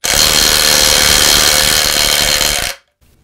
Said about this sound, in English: now she'll be putting out full nut bust and twerk on a seized fastener.